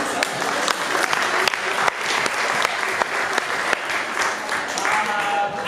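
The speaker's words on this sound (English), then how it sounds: "give yourself a round of applause for those" Sustained round of applause from an improv comedy audience, dense and steady clapping at close range with occasional louder claps throughout.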